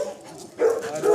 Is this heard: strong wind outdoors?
no